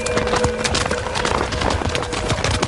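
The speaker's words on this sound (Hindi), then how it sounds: "घोड़ा कहाँ ले जा रही हो?" Hooves of a horse clip-clop steadily as it is led away, a dense, close run of hoof strikes with a faint voice under them.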